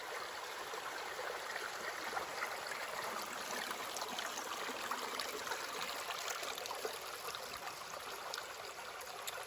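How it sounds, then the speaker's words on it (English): Mountain stream along the Appalachian Trail beyond the Shenandoah, rushing and trickling steadily over rocks, close and continuous with no voices. "Water everywhere once you're out of the Shenandoah."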